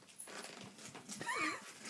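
A dog in a room where a podcast is being recorded gives a brief, faint whine with a rising and falling pitch, heard amid low background sound.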